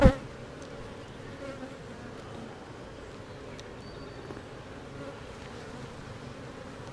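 Honeybees swarm around an opened hive with a continuous, close, droning hum, steady and low, with a brief knock at the start.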